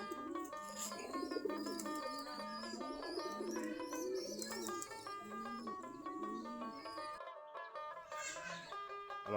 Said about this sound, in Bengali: আমাদের দেশি গিরিবাজ কবুতর, আমাদের কবুতরগুলো খাবার খাচ্ছে, পানি খাচ্ছে।